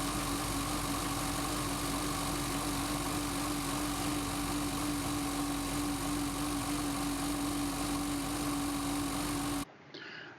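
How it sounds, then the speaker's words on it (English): A ski boat's inboard engine runs while the boat sits on a trailer with its water pump fed from a bucket, a steady loud idling drone with a constant tonal hum that cuts off near the end. "We're going to start the engine."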